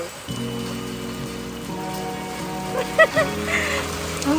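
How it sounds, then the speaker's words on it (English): Heavy rain hisses steadily and close by under sustained musical tones, with a few sharper splashes standing out. "Oh my goodness, क्या बारिश आई है."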